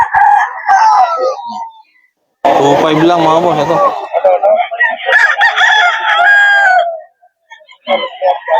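A rooster crows loudly and close, with other chickens clucking around it at a breeder farm in Bocaue, while someone talks over much of the clip.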